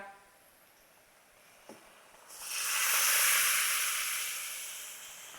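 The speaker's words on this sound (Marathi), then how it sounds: "आता आपण ह्याच्यात तयार केलेली प्युरी ओतूया" Loud hissing sizzle as spinach puree is poured into a hot pan for palak paneer, erupting suddenly after a quiet stretch and a small knock, swelling and then slowly easing off.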